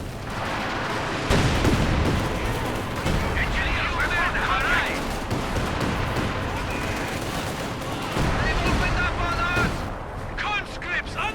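A grenade blast and sustained gunfire fill a Company of Heroes 2 battlefield, with heavy rumbling explosions and crackling rapid shots running continuously at high volume under voices.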